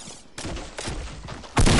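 Sniper fire in the video game Squad sounds as a few sharp, loud cracks in quick succession, with the heaviest blast at the end, close and alone.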